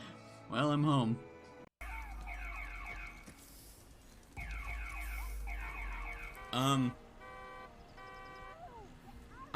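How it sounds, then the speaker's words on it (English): Car horn in the video game AI: The Somnium Files, sounding two brief, loud honks several seconds apart over background game sound and talking. "are you honking at me for being in your way inside the park?"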